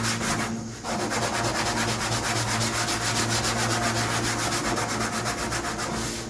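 A rag rubs steadily over freshly painted fake patina flames on a rat rod's body, making a continuous close scrubbing swish in fast, even strokes that carries on without pause.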